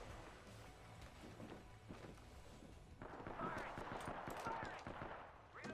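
Rapid hip-fire gunshots crackle in quick, dense bursts in the video game Apex Legends, loud and continuous over busy battle ambience, swelling in intensity midway.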